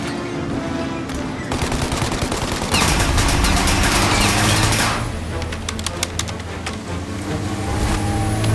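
Rapid gunfire and machine-gun bursts crackle through a car chase in the video game Mafia Definitive Edition, with repeated dense volleys over a running engine rumble and a loud peak midway, no speech.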